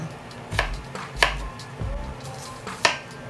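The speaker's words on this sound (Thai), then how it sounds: "เห็ดเชมปิยองเราจะหั่นแบบไหนก็ได้นะคะ" A knife chops sharply through champignon mushrooms on a cutting board, four distinct irregular strikes close up, with no talking.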